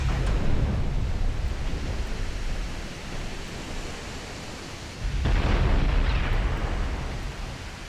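Warship gunfire and shell explosions in the naval combat game UA: Dreadnoughts: a continuous, heavy rumbling barrage of booms that dips slightly midway, then surges with a louder, closer blast near the end. No one speaks.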